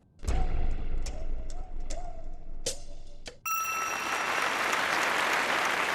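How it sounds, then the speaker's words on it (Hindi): A studio audience claps during a Family Fortunes game show round. Loud, dense applause with a few sharp bell-like dings is followed by a steady bright tone and a sustained wash of cheering and clapping. "तालियां।"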